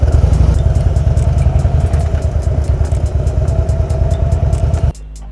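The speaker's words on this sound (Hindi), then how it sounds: "ये Harley Davidson fat boy 1800 CC में आती है ये बाइक।" Harley-Davidson Fat Boy motorcycle with an 1800cc engine, a loud, close, steady rumbling idle with rapid low pulsing throughout, cutting off abruptly near the end.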